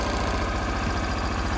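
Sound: Kobelco SS1 compact mini excavator engine idling

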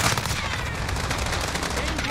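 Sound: gunfire in the video game Modern Warfare

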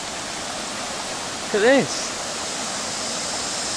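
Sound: waterfall and flowing river water

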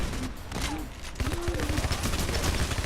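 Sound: gunfire in the video game PayDay The Heist

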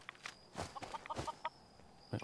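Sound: chicken clucking in the video game Fallout 4

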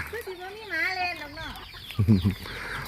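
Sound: chickens clucking

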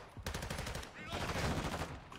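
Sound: gunfire from a gun in a video game

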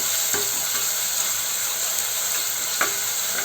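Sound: crushed shallots and green chilli sautéing, stirred in pan

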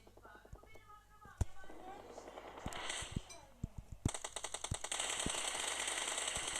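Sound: gunfire in the video game PUBG Mobile

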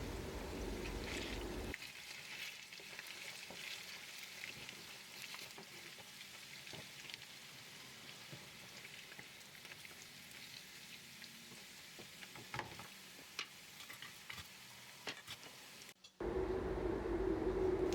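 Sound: potatoes frying in a pan, salted and stirred

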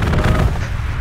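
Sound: strafing run gunfire in the video game Hell Let Loose

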